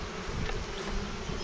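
Honeybees buzz in a dense, steady drone while a swarm is moved out of a nuc box into a full hive box, heard close with no talk.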